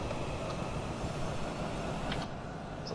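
Steady low rumble of a Class 175 diesel train running in Train Simulator 2017 on a winter Welsh morning, a continuous even drone with faint rail clatter, quiet and without talk.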